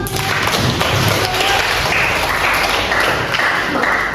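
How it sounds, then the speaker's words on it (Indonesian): Sustained applause from a school audience at SMAN 1 Wonosa, a steady, loud wash of many hands clapping that continues evenly throughout without a break. "Oke, berikan aplaus."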